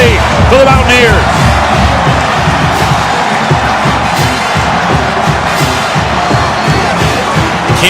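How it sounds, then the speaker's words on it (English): A rowdy stadium crowd at a college football game between West Virginia and TCU roars continuously, with whoops and shouts rising and a rhythmic pounding chant underneath, loud and close throughout. "This crowd is rowdy."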